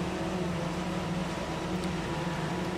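A Claas Jaguar 900 forage harvester chopping corn in Farming Simulator 2013 gives a steady, unbroken mechanical drone with a constant whirring hum, loud and even throughout, with no voices.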